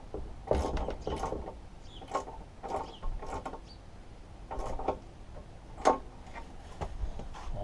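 A ratchet spanner clicks in short bursts while nuts and bolts are tightened on a Briggs and Stratton Intek engine wood chipper, the ratcheting coming in uneven clusters with pauses between, close and moderately quiet.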